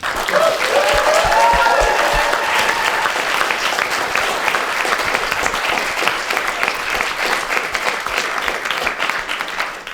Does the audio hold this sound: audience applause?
yes